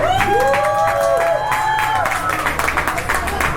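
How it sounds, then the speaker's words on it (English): A Texas Roadhouse restaurant crowd claps and cheers for a boy's ninth birthday, a busy mix of clapping and whoops with voices and tonal whistling or singing over the top. "This is Luke turning 9. Can we get a round of applause?"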